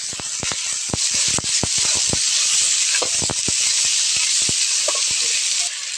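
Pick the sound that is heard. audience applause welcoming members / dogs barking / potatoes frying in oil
potatoes frying in oil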